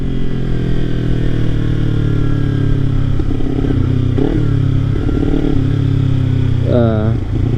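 Kawasaki Ninja 300 motorcycle engine running loud and steady at high RPM, a dense continuous drone with brief rises near the end, heard close up with a rider talking over it.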